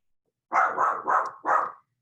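A dog barks nearby during an online design conference, giving four quick, loud, sharp barks in a row against otherwise silent surroundings.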